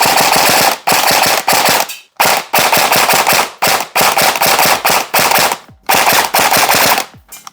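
Arcturus CAT AK airsoft AEG firing rapid full-auto bursts, loud and close, with the motor buzzing through each string of shots and short silent gaps between about seven bursts.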